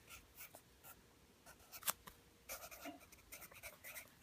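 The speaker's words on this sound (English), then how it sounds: "I could have got a better pencil for this." Pencil scratching across paper while working a math problem, faint soft strokes in irregular bursts with one sharper tap, close up and with no talking.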